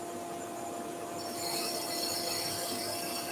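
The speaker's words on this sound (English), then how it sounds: "This is still a roughing cut. We're still shaping. Now I'm going to turn my roughing gouge up on edge here" A roughing gouge cuts a pen blank spinning on a wood lathe, giving a steady close scraping whir under a constant motor hum that grows louder and brighter partway through, with no talk.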